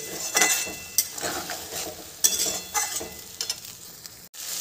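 Spice masala with cinnamon, cardamom and cloves sautéing in a pan, a steady sizzle with several sharp spoon scrapes and knocks against the metal, close and fairly loud.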